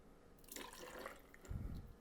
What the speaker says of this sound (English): Then we are going to measure out 2 ounces of Liquid Joy, also known as Shipwreck Coconut Rum.